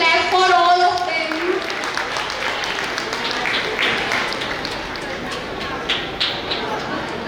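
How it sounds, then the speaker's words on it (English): An audience at a school gathering claps after prize winners are announced, a dense spread of many hands clapping for several seconds, with a voice speaking over the very start and chatter mixed in as it slowly thins. "Clap for all of them."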